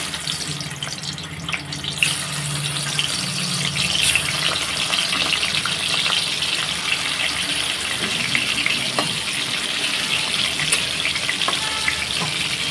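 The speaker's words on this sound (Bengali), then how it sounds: "তেল গরম হয়ে গেছে, আমি এবারে মাছটা দিয়ে দেবো।" Shoal fish, rubbed with salt and turmeric, goes into hot oil for a Bengali kalia and sizzles loudly and steadily close by. The frying hiss carries on throughout with no voices.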